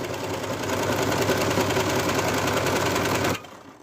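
A sewing machine stitching an appliqué on a handmade plush toy runs in a fast, steady mechanical whir with a rapid needle rhythm, loud and close, then stops abruptly near the end.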